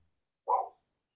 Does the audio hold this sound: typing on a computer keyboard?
no